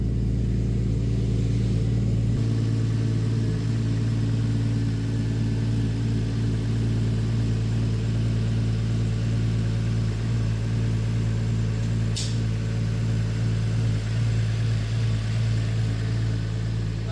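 A Toyota Chaser's 1JZ engine runs at a steady, loud idle after a Radium fuel system install on ethanol flex fuel. The drone holds even and close throughout with only slight changes in tone.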